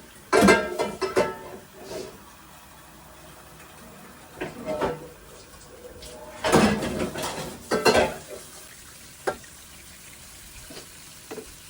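Dishes being washed in a home kitchen: pots, pans and cutlery clatter and clink in scattered bursts, with quieter gaps between them and faint running water in the background.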